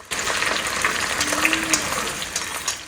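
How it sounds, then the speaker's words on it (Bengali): Onions fry in a kadai of olive oil and ghee to make beresta for biryani, a dense, even hiss of sizzling oil heard up close for a few seconds. "ওইদিকে বেরেস্তা ভাজা হচ্ছে"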